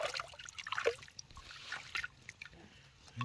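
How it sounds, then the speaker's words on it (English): Water trickles and dribbles as it is poured into a pot outdoors after dark, a soft splashing pour heard up close in short uneven bursts with no talking. "put a little water in here."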